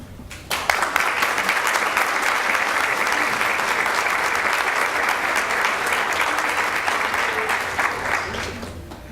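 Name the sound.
audience applause for students, parents and advisors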